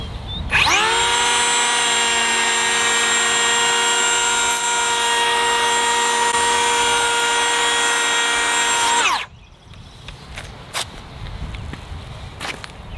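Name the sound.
Ridgid Octane 18 volt cordless hand power planer planing wood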